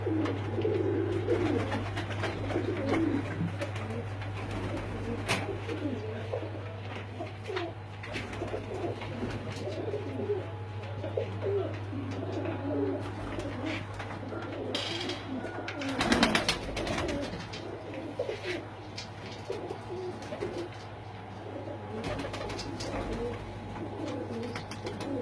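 Pigeons coo on a rooftop, soft repeated cooing carrying over a low steady hum, with a brief louder burst of noise midway and faint background voices.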